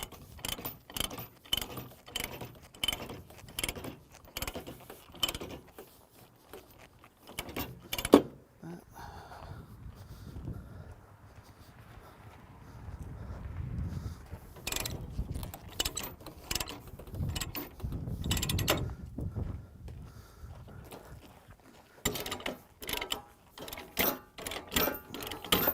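Ratchet binders clicking as chains are tightened to secure a mini excavator on a trailer. The ratcheting comes in repeated rapid bursts with metallic clanks, and a person talks over parts of it outdoors.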